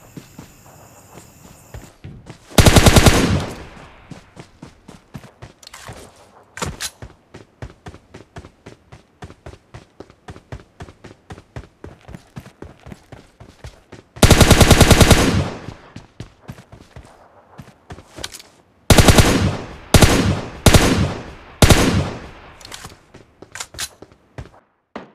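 Gunfire erupts in PUBG Mobile Lite as several loud, sharp bursts break through a steady run of quick in-game footsteps, with no talking.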